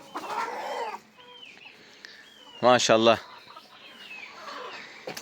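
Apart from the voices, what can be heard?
chickens and chicks clucking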